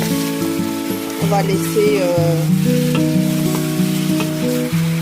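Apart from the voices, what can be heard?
beef browning with onions, sizzling in a pan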